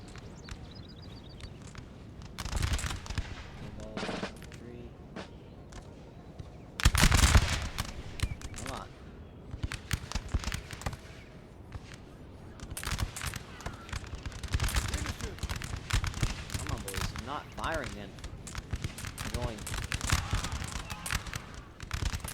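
Musket volley fire from Bengali troops in the battle game NTW3: repeated crackling bursts of massed shots, some near and loud, others scattered and farther off, with someone talking over the gunfire.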